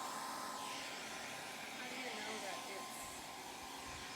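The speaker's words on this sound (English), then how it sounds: "Go ahead and put the dryer on it." A hair dryer blows over glue on a sandcarving stone, a loud, steady motorized whoosh with constant airflow that holds at one level throughout, close to the listener, while a voice is faintly present underneath.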